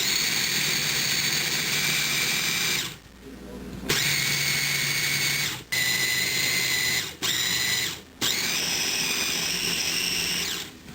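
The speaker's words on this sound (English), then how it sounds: "take the wheat berries and run them through a food processor" A food processor whirs loudly, chopping sprouted wheat berries in several bursts: a long run, a short pause, then repeated shorter pulses with brief gaps between, the motor pitch steady and close.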